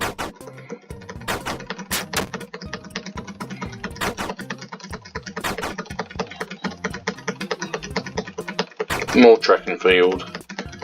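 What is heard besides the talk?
rapid computer keyboard typing while playing The Escapists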